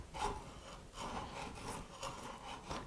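A large center bit bores a hole into wood, making steady scraping and shaving sounds in repeated close strokes, fairly quiet with no voices.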